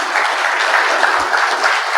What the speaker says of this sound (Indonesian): tepuk tangan untuk Cak Nawa.